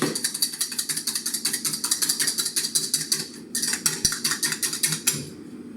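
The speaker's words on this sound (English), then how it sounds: "Give those a good whisk till they're all broken up." Eggs are whisked briskly in a bowl, a fast, steady run of metallic ticking strokes close up that pauses briefly before resuming.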